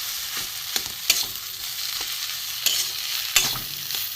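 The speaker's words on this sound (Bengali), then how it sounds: "এখানে আমার আলু গ্রেট করা আছে, আলুটা দিয়ে দেবো। একটু ভালো করে মেখে নেব।" Grated potato being stirred into frying masala in a pan, with close scraping strokes of a spoon at irregular intervals over a constant sizzle, no voices.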